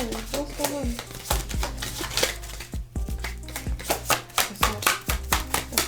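Oracle cards are shuffled by hand in quick, crisp riffling bursts close by, the papery slaps repeating in an uneven rhythm.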